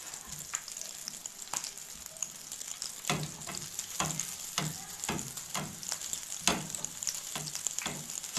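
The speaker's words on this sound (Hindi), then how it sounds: "जैसे जैसे ऑयल इसके ऊपर जाएगा ये खिलता जाएगा और फ्राई होता जाएगा" Onions frying in oil until crispy, a steady close sizzle with bright crackling and intermittent stirring or spooning noises, no talking.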